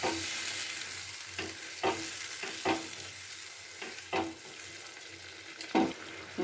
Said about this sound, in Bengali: দিয়ে খুব ভালো করে এবার এই মশলার সাথে পটলগুলোকে মিশিয়ে নিতে হবে।